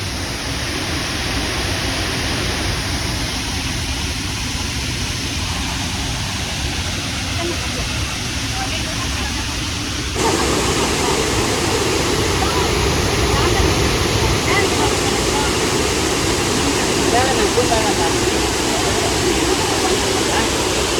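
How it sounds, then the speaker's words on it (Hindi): Kangsuri waterfall roars with rushing water in a dense, unbroken wash of noise that jumps louder about halfway through and then holds steady. "तो गाइस यही है कांगसुरी वाटरफॉल"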